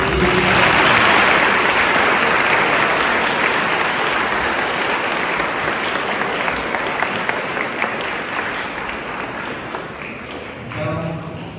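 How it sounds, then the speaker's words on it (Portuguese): A church congregation applauds the priest at a Mass for the sacrament of Confirmation, sustained dense clapping from a large crowd that fills the space and slowly thins toward the end, with voices faintly underneath. "Uma salva de palmas para o padre."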